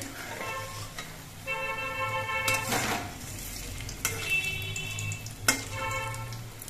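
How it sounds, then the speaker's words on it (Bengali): Lentil fritters (bora) sizzle in oil while being flipped, a constant frying hiss broken by two sharp spatula clacks against the pan and some scraping stir noise. "এবার বড়াগুলো উল্টে দিচ্ছি।"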